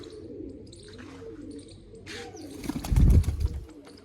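Pigeons in a rooftop loft coo and chirp quietly, then a short burst of louder flapping and rustling near the end.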